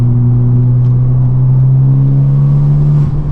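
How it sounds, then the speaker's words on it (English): Honda Civic Type R with a boost leak pulling hard in fourth gear, a loud, steady low engine drone heard from inside the car, holding a constant pitch throughout with no voices. "I wonder if I floor it in 4th gear"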